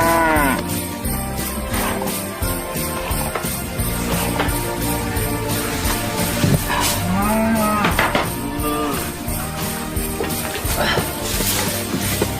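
A cow moos loudly several times on a ranch, long drawn-out lowing calls repeating over steady background sound with no talking.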